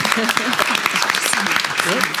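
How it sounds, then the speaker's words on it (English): A small group of people clapping their hands together, a dense patter of claps mixed with overlapping voices and chatter throughout. "Let's clap some hands"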